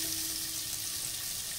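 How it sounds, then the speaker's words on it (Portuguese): Onions sizzling in a pan that was used to sear meat, a soft, steady crackle of frying that stays continuous and fairly quiet throughout, with no speech. "vamos fritar esses ingredientes, vamos dourá-los"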